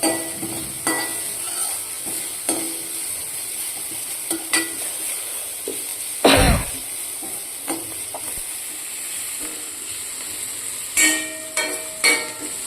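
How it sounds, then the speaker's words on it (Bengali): Diced onion, carrot and beet sizzle and hiss steadily in a pan for masala rice, with scattered scrapes and clacks of stirring and one louder burst of scraping midway. "পেঁয়াজটা যখন হালকা ব্রাউন হয়ে যাবে তখন একে একে গাজর কুচি এবং বিট কুচি দিয়ে সবজিটাকে ভালোভাবে নাড়াচাড়া করে নিতে হবে"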